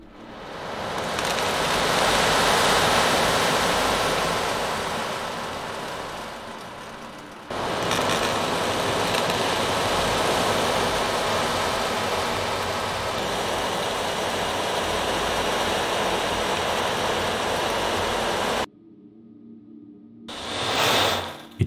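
Ocean drum, a shaman-style frame drum with a resonant head filled with metal beads, tilted to imitate rolling and crashing surf: a loud, continuous hissing wash that swells and fades, pauses briefly, then rolls again, recorded alone.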